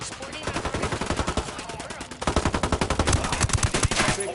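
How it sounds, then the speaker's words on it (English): Rapid automatic gunfire in Ghost Recon Wildlands rattles in close, sustained bursts, loud and rhythmic with no pauses, thickening into overlapping shots. "Opening fire."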